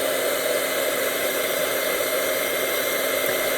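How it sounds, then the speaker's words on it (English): A heat tool blows steadily to dry watercolor paint on paper, a continuous, loud, even whooshing hum with no voices, filling the whole stretch. "I'm going to heat it once more to dry it up"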